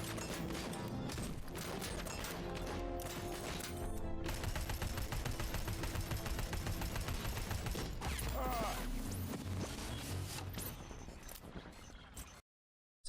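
Rapid, dense bursts of gunfire in a RoboCop video game rattle almost continuously, loud and close, with crashing impacts mixed in before cutting to silence at the end.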